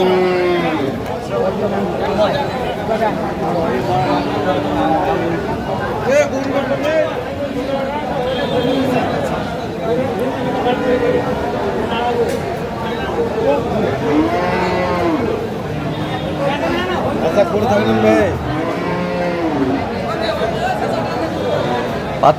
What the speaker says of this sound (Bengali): গাভি এবং বাছুর আমরা দেখছিলাম এখানে